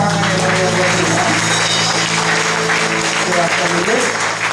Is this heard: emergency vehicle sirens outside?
no